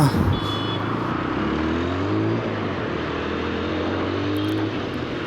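TVS Apache RTR 160 4V motorcycle engine running while riding, a steady low drone with rising and falling engine tones, close and continuous throughout with wind noise and no talking.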